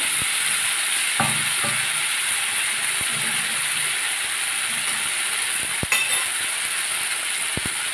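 Spice paste thinned with water hitting a hot pan while cooking a rohu fish sour curry, producing a steady loud broadband sizzle throughout with a few faint clinks of utensils.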